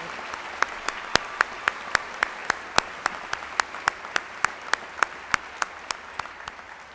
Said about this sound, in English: Let's give another round of applause for all of our graduates' outstanding academic achievement.